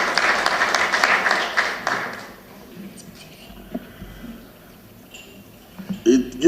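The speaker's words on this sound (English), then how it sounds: "Another round of applause for that wonderful speech." Audience clapping after a speech at an African Union gathering of sports ministers in Nigeria, loud for about two seconds and then fading into scattered claps, low room noise and a few faint bumps.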